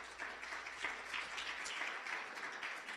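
A church congregation claps steadily in a reverberant hall, the applause faint and distant but sustained for a few seconds.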